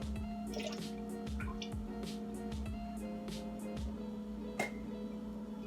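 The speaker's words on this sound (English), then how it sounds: "Going in with my soy sauce." Soy sauce trickles and drips into a bowl alongside vinegar for a sweet and sour chicken sauce, a soft, close pour with small drops and clinks over a steady low hum.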